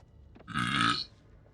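A single short burp from a person, close and fairly quiet, lasting about half a second against near silence.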